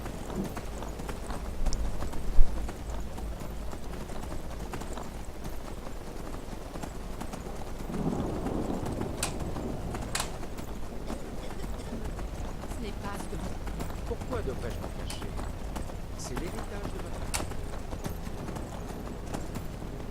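Horse hooves clip-clop at a gallop in the video game Skyrim, with a steady rhythmic pounding that runs for the whole stretch, plus an occasional neigh and someone talking over it.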